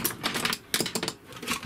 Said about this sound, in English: Just going to snip those off